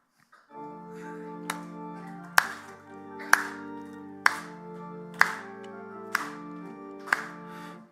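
A church congregation at a Sunday worship service claps along in a steady beat, one sharp clap roughly every second, over a sustained gospel song accompaniment.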